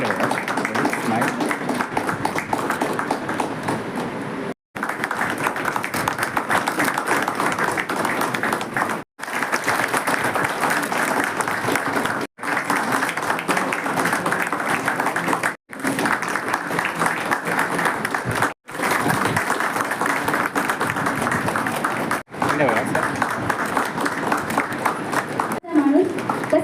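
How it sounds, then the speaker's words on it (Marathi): Loud, sustained applause fills an office hall during a Dr. Babasaheb Ambedkar birth anniversary celebration, in several long bursts separated by brief gaps, with voices talking beneath the clapping. "जोरदार टाळ्या"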